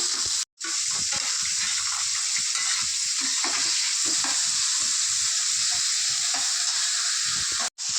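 Onions sizzle steadily in a hot pan for egg bhurji, a continuous close frying hiss broken by faint stirring scrapes, with no talking.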